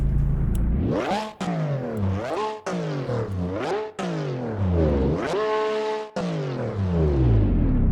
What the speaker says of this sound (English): if you're wondering how the car sounds in this game, it's absolutely insane